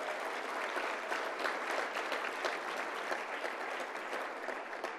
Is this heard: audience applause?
yes